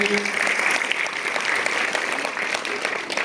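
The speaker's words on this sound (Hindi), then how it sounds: "तो एक मरतबा इनके लिए तालियां बजाइए।" Audience applause at a school program on women's health, a steady wash of many hands clapping continuously at fairly loud level, with a voice briefly audible at the start.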